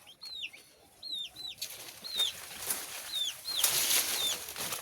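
Chicken chicks calling in a maize field, a series of thin high chirps repeated through the clip over a rustling outdoor background, moderately near and fairly faint.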